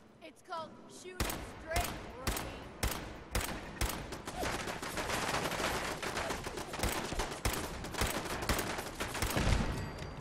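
Gunfire in Fallout 4 with a pipe rifle and 10mm pistol against a turret: repeated sharp shots, first spaced then in rapid dense volleys, with a voice talking over the shooting.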